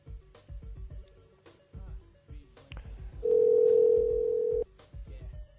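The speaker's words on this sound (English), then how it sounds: "Loud ass phone." A telephone call tone sounds as a single loud, steady beep lasting over a second, cutting in over a rhythmic thumping music bed that continues before and after it.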